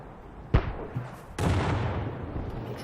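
SPG artillery in World of Tanks fires twice, each a sharp booming crack followed by a rumbling tail, the second blast louder and longer.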